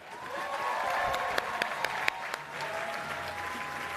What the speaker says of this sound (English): I want you guys all to give a big round of applause for Senator Amy Klobuchar.